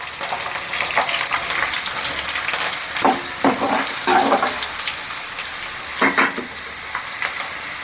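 Curry leaves crackle and sizzle in hot oil with garlic for a village-style drumstick kuzhambu, a dense continuous frying hiss broken by sharp spluttering pops and the clatter of stirring.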